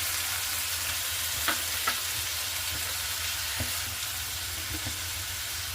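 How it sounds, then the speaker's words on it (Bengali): Chopped tomato frying in a pan with ginger and green chili for a pabda fish curry, giving a steady close sizzle with a few soft stirring clicks and no voices. "জিঞ্জার আর গ্রিন চিলিটা ভাজা হয়ে যাওয়ার পর আমি ওর মধ্যে চপড করে রাখা টমেটোটা দিয়ে দিয়েছি"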